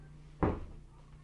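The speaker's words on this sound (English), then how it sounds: "Shut his door so I don't have to listen to it." A single quiet thump as a door is pulled shut indoors, brief and isolated against a low room hum.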